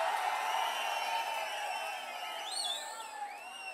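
Crowd at a political rally in Chengam cheering and whooping, a distant wash of voices with rising whistles and shouts, fairly faint and steady.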